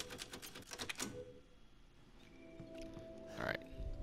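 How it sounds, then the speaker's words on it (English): Typewriter keys clack in a quick burst in the Resident Evil Village video game, followed by quieter game ambience, a steady low hum and a brief mechanical clatter near the end. "Oh, here we go. Typewriter."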